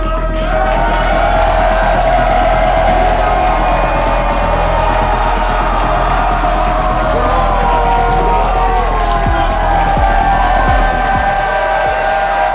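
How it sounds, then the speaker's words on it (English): A capacity wrestling crowd inside historic Washington Hall in Seattle roars steadily and loudly, with cheering, whoops and applause under a ringside announcer's voice. "Capacity crowd on hand here inside historic Washington Hall in Seattle"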